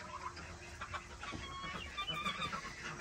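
A hen clucks on a homestead with goats and ducks, soft repeated clucks at a moderate distance over a faint outdoor background.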